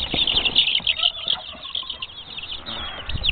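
Hens on a farm cluck and chatter close by, a busy overlapping flurry of short calls with some light rustling and flapping.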